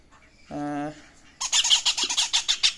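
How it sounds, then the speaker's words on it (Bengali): Green Indian ringneck parakeets in an aviary: a brief harmonic squeal, then a rapid series of loud, harsh, close squawks in a choppy rhythm. "এখানে সামনে দেখতে পাচ্ছেন Indian ringneck, green Indian ringneck"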